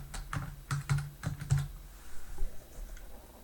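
Quick keystrokes clatter on a computer keyboard while entering a name into an Excel spreadsheet. A close, crisp burst of about half a dozen taps is followed by a few fainter clicks.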